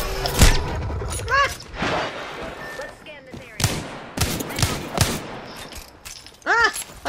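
Single-fire weapons in the video game Apex Legends crack off in separate shots with sharp impacts and booms, spaced irregularly, while a player cries out briefly.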